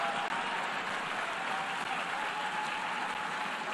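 Sustained applause fills the UN General Assembly hall after a vote result is announced, a dense, steady wash of many hands clapping at even loudness throughout.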